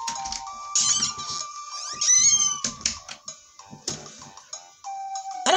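Cat meowing during a Mario & Luigi: Superstar Saga DX play session, several short bright calls mixed with game music and sound effects, no talk.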